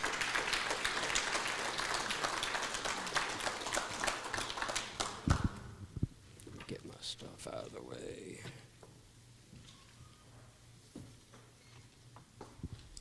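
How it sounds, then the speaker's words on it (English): Audience applause at a district meeting, loud and sustained for about five seconds before fading, with a speaker's voice taking over afterward. "Let's give him a round of applause."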